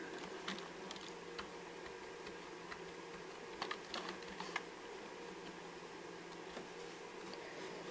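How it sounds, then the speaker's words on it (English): Quiet, slow tapping of computer keys, scattered irregular clicks with a small burst of several keystrokes in the middle, faint against a soft background hiss. "I'm typing it super slowly so I get it right."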